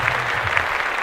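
Brief burst of crowd-style applause played as a podcast sound effect, constant and fairly loud from start to finish, alone without talk.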